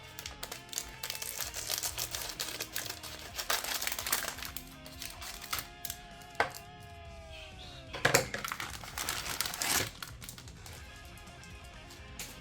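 Hobby clippers snip plastic Warhammer model parts from their sprues, making small sharp clicks and crackles close by. The cutting runs over a busy background of rustling and other household noise.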